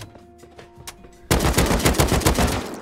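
Automated turrets in the video game Rust open up after about a second of quiet, a loud sustained burst of rapid, machine-gun-like fire that continues to the end without speech.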